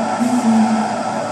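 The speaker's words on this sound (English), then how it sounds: "Let's just listen to the engine while they brake." Lexus GT300 race car braking on track, a steady engine drone with a low tonal whine near 200 Hz, loud and continuous without talk.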